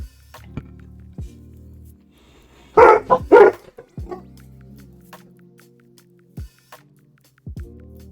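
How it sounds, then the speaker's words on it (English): Dogs give a short burst of two or three loud, close barks in an otherwise quiet room with faint clicks and drips around them. "Let me just let these dogs out so they don't yap it up on stream"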